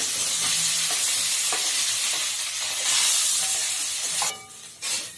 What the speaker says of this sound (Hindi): अभी हम आलू भूज रहल छी, एहिमे कनिक रिफाइने दऽ रहल छियै।